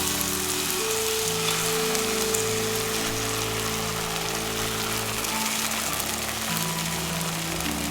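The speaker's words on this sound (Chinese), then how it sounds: "淋入蛋液。" Beaten egg poured over bitter melon into hot oil in a wok on medium heat, giving a steady, dense sizzle that holds throughout, with a low hum underneath.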